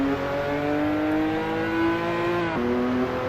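A Lotus Emira's engine in the Assetto Corsa Evo racing game, driven with a Fanatec steering wheel, hums in a steady, loud, harmonic drone under load, then dips briefly at a gear change near the end before carrying on. No voices.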